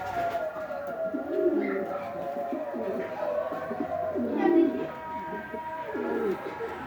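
Pet pigeons coo nearby in repeated low, rounded calls about every second or two, over a steady murmur of background noise and faint voices.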